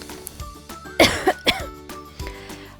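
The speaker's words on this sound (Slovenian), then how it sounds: "Tomaž in Anica vdihneta v grlo toliko moke, da se jima zaleti in morata kašljati." Two children cough after breathing in a cloud of flour, a storybook sound effect: several sharp, close coughing bursts in quick succession, alone with no talk.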